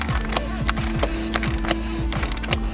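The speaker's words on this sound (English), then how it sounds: "come back in with my CTA tool and bring it the rest of the way home" A CTA tool ratchets a Volkswagen MK6 oil filter housing tight, giving a close, steady run of rapid metallic clicks that repeats in quick, even strokes throughout.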